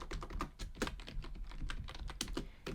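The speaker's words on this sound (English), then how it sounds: "I'll type in a little explanation." Rapid, close clacking of keys on a computer keyboard, a continuous run of quick typing strokes with no speech.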